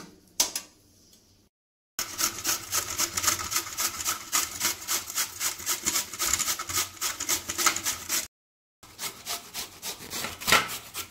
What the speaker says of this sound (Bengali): এই মিষ্টি কুমড়োটা আমি ঘষে নিব